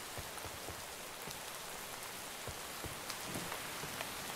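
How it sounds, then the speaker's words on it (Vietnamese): Steady rain in Minecraft, the Dawncraft modpack, pouring as a dense even hiss on surfaces with scattered louder drop ticks, continuous and moderately loud with no voices. "Mưa gió bão bùng quá."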